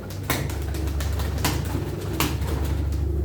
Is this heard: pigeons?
yes